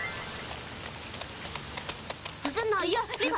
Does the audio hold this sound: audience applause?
no